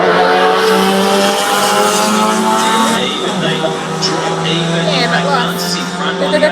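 A Gemini race car with a 4-cylinder engine roars at high revs on a drag strip at a winter meet, a loud, steady, buzzing engine note that eases off midway and then carries on under commentary.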